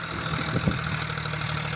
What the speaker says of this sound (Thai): รถไถมาแล้วครับ